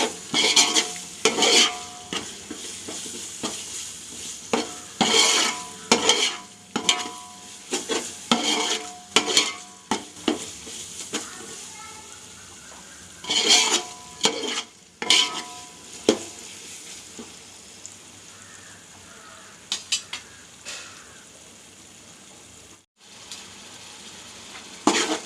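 Chicken dum biryani stirred in a pot, a spoon scraping and clanking against the metal in repeated bursts over a low sizzle, loud and close, with a brief quiet pause near the end.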